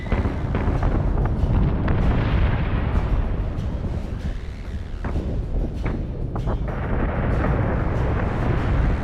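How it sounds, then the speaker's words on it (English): Starship weapons from the space combat game Battlestar Galactica Deadlock, a dense barrage of repeated booming shots and blasts layered over a continuous low rumble, loud and sustained throughout. "Firing on target."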